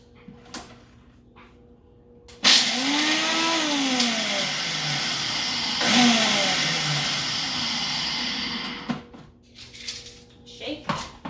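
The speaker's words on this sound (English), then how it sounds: "And then I'm just going to pulse until they're all crushed" A blender pulses to crush peppermint candies in a blender cup, with two loud motor bursts whose pitch rises and then winds down, the first longer and the second shorter, followed by some rattling and clatter.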